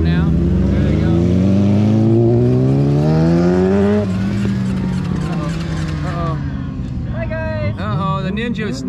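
A Ninja motorcycle rides away from a bike night gathering. Its engine revs loudly and climbs through the gears, then the pitch drops and shifts as it pulls off, with background noise from the event underneath.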